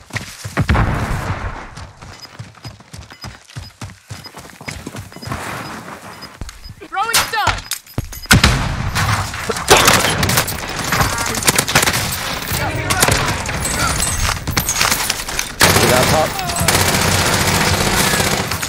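Call of Duty Warzone gunfight with repeated bursts of automatic fire, sparse at first and then heavy and nearly continuous, loud and close, while a player talks excitedly over the shooting.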